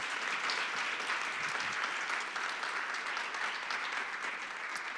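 An audience at a round-table conference applauds steadily for about five seconds, a dense, even clapping heard from within the room with no voices over it.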